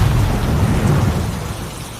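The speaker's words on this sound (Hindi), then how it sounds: "इतने में एक जोरदार बिजली कड़की" A loud thunder crack for a horror story rolls as a dense, low rumble with hissing rain, holding steady before easing slightly over about two seconds.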